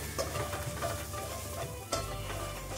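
Masala for egg dum biryani sautés in a pan with a soft steady sizzle, stirred with a few light scraping clicks and one sharper knock near the end, fairly quiet and without talk.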